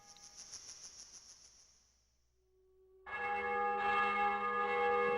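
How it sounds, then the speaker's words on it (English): Church bells ring out in a steady rhythm, fading into near quiet, then a dense, loud peal of several bells clangs in overlapping strokes. "Oh, the church bells."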